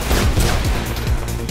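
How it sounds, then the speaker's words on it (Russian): Rapid bursts of gunfire in the video game Mirror's Edge crackle loudly in quick succession, a dense string of shots with no talking. "Я слышу выстрелы"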